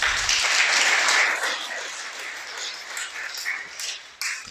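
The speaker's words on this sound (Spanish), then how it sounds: "Dale un aplauso." Applause from a church congregation, a dense wash of clapping that swells at the start and slowly thins out, fairly close and loud, with scattered sharper claps near the end.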